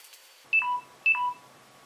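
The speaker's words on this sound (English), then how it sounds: "That beep was my phone, which my thermal camera plugs into, is running low battery." Two short electronic beeps, each a quick two-tone chirp, sound close and clear about half a second apart over a quiet background: a phone's low-battery alert.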